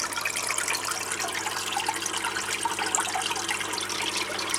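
Agitated water churns and splashes continuously in a goldfish tank, a steady, fairly loud bubbling and trickling wash with no voices.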